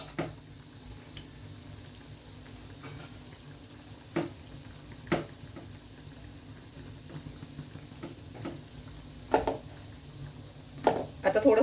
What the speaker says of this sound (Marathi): तेलाच्या अगदी जवळून भजी सोडायची